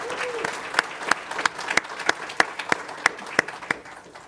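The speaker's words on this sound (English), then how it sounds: "So big round of applause to all of you" Audience applause at a powerline technician graduation ceremony, a steady wash of clapping with several sharp, close individual claps standing out.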